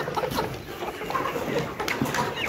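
Layer hens in a farm shed cluck and murmur continuously, several birds overlapping at close range, with soft shuffling and a faint high background hiss and no talking.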